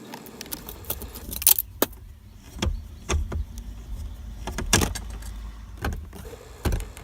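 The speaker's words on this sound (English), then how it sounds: "I'll speed this part up where I remove the screws" Screws being taken out of a car's dashboard air vent: scattered metallic clinks, rattles and small clicks, close and fairly quiet, in irregular bursts with brief pauses between.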